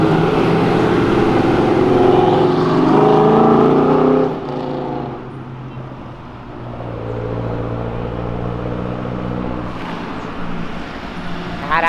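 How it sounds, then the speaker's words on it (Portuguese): A Nissan GT-R revs hard and roars loudly on a city avenue, its engine note climbing for several seconds, dropping off, then rising again, with no talking over it. "o vídeo do GTR acelerando"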